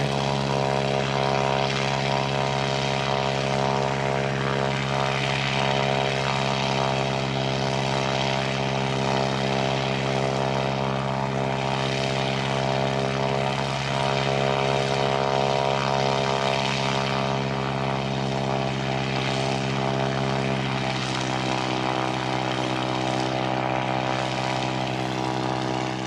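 A New Zealand Air Force Beechcraft King Air turboprop drones at an airport, its propeller tone steady and loud with layered harmonics throughout, swelling slightly at times, no talk over it.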